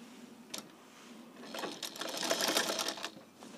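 Sewing machine stitching fabric for a kurti back neck: a brief burst near the start, then a steady rapid run of close, moderately loud stitching with no voices.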